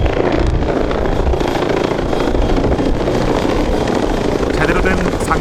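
Military helicopter flying close by, a loud, steady, dense rotor and engine roar that fills the whole stretch without letting up, with a voice talking over it.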